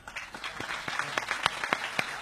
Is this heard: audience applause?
yes